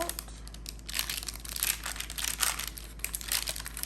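Parchment paper crinkling and rustling up close while lining a 9 by 13 pan, in irregular bursts of crisp crackles, with no talking.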